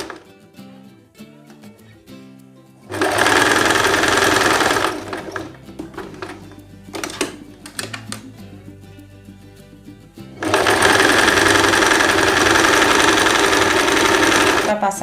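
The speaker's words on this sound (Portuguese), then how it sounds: "Você vem costurando essa parte do seu cinto, do cintinho, da faixazinha que tem aí." A sewing machine stitches a fabric belt sash for a simple dress. It makes two long bursts of fast, loud, close whirring, with quieter handling sounds and talk between the runs.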